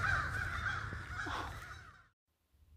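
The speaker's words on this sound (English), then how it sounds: "Shut up, crows!" Crows cawing loudly and close in a steady, raspy run of calls for about two seconds, then cutting off into near silence with a faint sound near the end.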